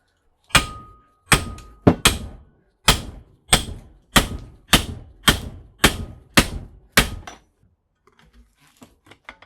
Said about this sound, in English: now I'm just going to pound on this edge, breaking this weld off